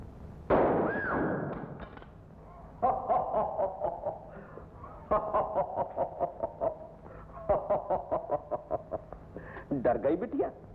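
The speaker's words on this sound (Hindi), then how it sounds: "ये गरजने वाली गोलियां हैं, बरसने वाली नहीं" Gunshots in a 1949 Hindi film scene: a sharp burst near the start, then a long series of sharp repeated reports in rapid bursts, fairly loud, mixed with music and soundtrack noise.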